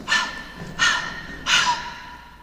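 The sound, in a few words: panting after running, radio drama effect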